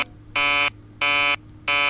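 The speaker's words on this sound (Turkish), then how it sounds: "Alarm, alarm kulağımı sıktı alarm." Alarm buzzer in a video game, three loud harsh buzzing bursts of equal length sounding in a steady on-off pattern with brief gaps between them.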